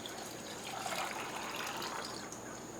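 Water pours into a pot of raw cashews as a steady, gentle gushing stream, close and fairly quiet, continuing unbroken with no speech.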